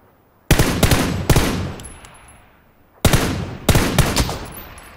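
Gunfire in a shooting video game: two pairs of loud, sharp rapid bursts with a ringing reverberant tail that decays between volleys, close and dominant, no talking.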